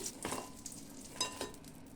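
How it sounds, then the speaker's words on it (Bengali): Eggplant slices (begun bhaja) fry in oil over medium heat with a soft, quiet sizzle, broken by a couple of brief louder hissing bursts. "আবারও একইভাবেই বাকি বেগুনগুলোও ভেজে নেব"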